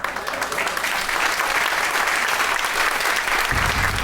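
Audience applause fills the room in a steady, dense wash of clapping, loud and close, holding evenly for about four seconds with a low rumble near the end.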